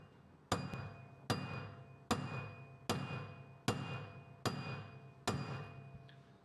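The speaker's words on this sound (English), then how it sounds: "Hit it with the hammer" Seven hard hammer blows on a Ford Explorer wheel bearing assembly land about a second apart, each a sharp clang that rings and fades before the next.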